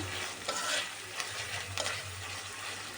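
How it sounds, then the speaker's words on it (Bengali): Chopped ginger and garlic sizzle steadily in hot oil in a pan, with a few scraping strokes of a spoon as they are stirred. "আমি ভালো করে আদা রসুনটাকে ভেজে নিচ্ছি তেলটার মধ্যে।"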